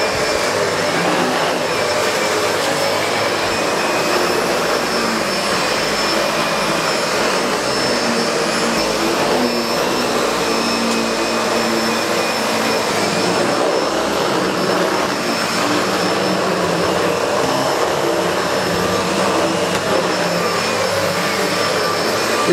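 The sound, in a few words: SEBO Felix vacuum cleaner with brush on, cleaning carpet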